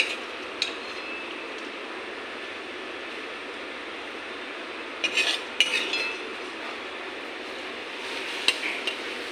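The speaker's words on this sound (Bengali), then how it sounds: "দিয়ে আমি এই বাটিতে সার্ভ করে নেব" Cooked fish is served into a bowl with a few light metallic scrapes and clinks of a utensil against cookware, faint and sparse over a steady low hiss.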